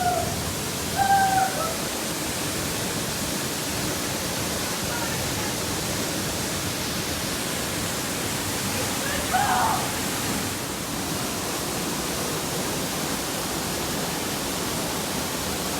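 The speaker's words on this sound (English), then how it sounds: "looking out onto this magnificent waterfall" A waterfall in Aberdare National Park, Kenya, set in moorland, gives a steady broad rushing roar throughout, with a couple of faint brief sounds on top and no clear talk.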